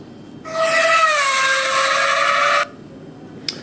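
A Ferrari-themed mobile phone plays its startup sound on power-on: a loud, sustained, bright tonal blast with a whistle-like, slightly wavering pitch. It lasts about two seconds, then cuts off sharply, followed by a brief faint click.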